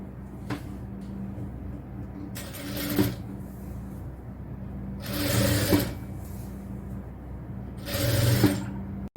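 Sewing machine stitching the sleeve of a cotton top, running in three short bursts separated by pauses, moderately loud and close, with a steady low hum between runs.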